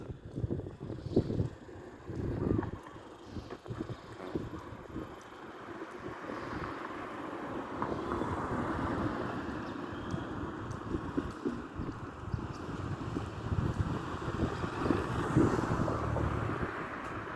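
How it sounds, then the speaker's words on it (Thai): Cool wind blows beside a mangrove canal in Bang Khun Thian, buffeting the microphone in a steady, rushing roar that surges and eases for the whole stretch, with no voices over it. "ลมเย็นสบายนะครับ"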